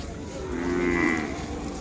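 A single bovine moo rises and falls in one drawn-out low call at a cattle market selling Ongole bulls, fairly clear against a faint outdoor murmur, no talking.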